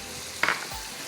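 Tomato paste drops into a hot pan and sizzles briefly, a short bright frying burst over a steady low hiss of cooking, with no voices.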